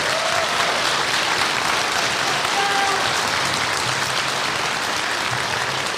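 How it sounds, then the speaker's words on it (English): A large audience at a middle school honor band concert applauds steadily for about six seconds, a dense, even wash of clapping with no break or talk over it. "can we get a big thank you and a round of applause for these people here?"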